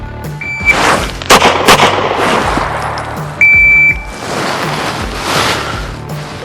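Pistol gunshots during an advanced pistol qualification course on a range, a few sharp loud reports spaced apart, with a shot timer beep and outdoor ambience.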